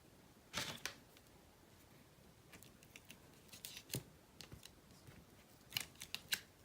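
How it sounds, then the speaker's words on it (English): Scissors gummed up with adhesive make sharp, irregular snips and clicks while cutting material for a vintage traveler box set, faint and close, in scattered bursts with quiet gaps between. "I finally reached maximum gunk level on those scissors"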